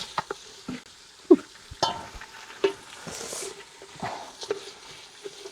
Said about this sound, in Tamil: இவ்வளோ பிரியாணி இவ்வளோ இதை போட்டுட்டு இந்த இப்படி வதக்கணும் இப்படி வதக்கணும்